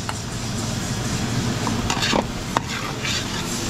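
Garlic and onion sautéing in a pan for a Kapampangan pork giniling and seafood dish, a steady close sizzle with a few stirring scrapes and a brief clink of a utensil against the pan.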